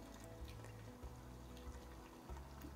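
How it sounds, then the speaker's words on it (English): Turkey drippings from an Instant Pot are poured through a mesh strainer, giving a faint, steady liquid trickle and splash with no voices. "just pour it in sideways. And sometimes I'll pour it through a mesh strainer"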